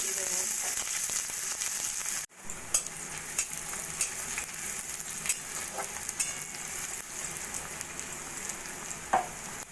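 A thinly sliced medium onion fries in hot oil with nigella seeds and chili, giving a dense continuous sizzle. It cuts out abruptly for a moment, then resumes with scattered crackles and pops.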